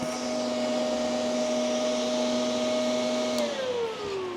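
A Makita 18V portable wet/dry shop vac runs at close range with a steady motor whine and airflow roar, then the pitch drops as it begins spinning down near the end.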